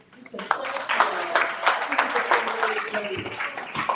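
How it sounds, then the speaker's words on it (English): Applause builds at an arts and justice event, a rough, uneven wash of clapping from a small audience that swells and stays dense for a few seconds. "I just would like to give them just a round of applause"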